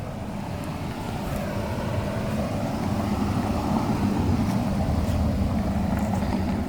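A 2023 Mazda CX-30 with a 2.5-litre engine, automatic transmission and four-wheel drive idles steadily, a continuous low hum and rumble heard alone without speech.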